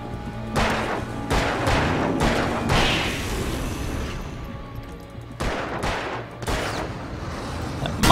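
Gunfire in the video game Alan Wake: several loud, close shots and bursts in two clusters, with a quieter stretch of rumbling between them and no talk over it.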